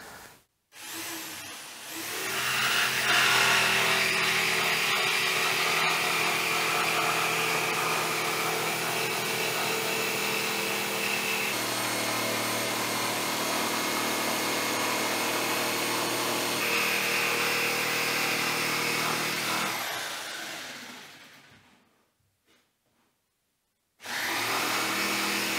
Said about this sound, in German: Und das erreiche ich natürlich am besten mit der Stichsäge